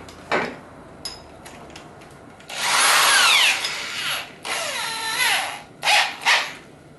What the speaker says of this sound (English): put the bit in the drill, and then I make my holes